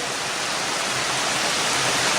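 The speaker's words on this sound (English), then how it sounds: "one of them here has a lot of water coming out of it" Rainwater gushes hard from a drain pipe behind a concrete wall along the Iron Goat Trail at Wellington, a loud, unbroken roaring rush of water close to the listener.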